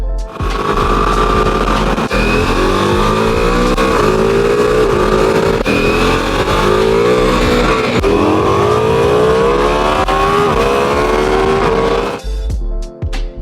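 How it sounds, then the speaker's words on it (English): A four-cylinder motorcycle engine revs hard through rising gear pulls, loud and close, with a brief shift and snarl near the end. "Just the noise of that 4-cylinder bike."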